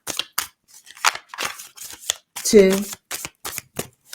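Tarot cards are shuffled in quick riffling bursts and sharp taps, close and crisp, under a person speaking.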